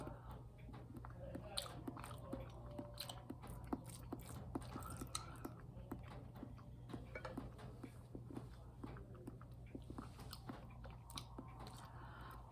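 Someone eats Olive Garden pasta with meat sauce, tasting the sauce alone; close, quiet chewing and biting with soft moist clicks recur steadily under a low background hum, with no talking.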